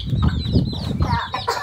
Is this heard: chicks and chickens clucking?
yes